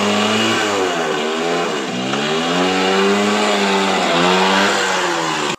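A car engine starts and revs hard in rising and falling surges, loud and close, each rev climbing in pitch before dropping back, then it cuts off abruptly at the end.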